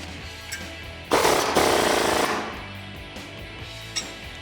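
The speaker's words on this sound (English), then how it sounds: "Grab your 18mm socket and an 18mm wrench and tighten these down." A short loud mechanical rattling burst of about a second, then a quieter whirring tail, as factory bolts on a Jeep Gladiator JT leveling kit install are tightened with an 18mm socket; otherwise quiet with small clicks.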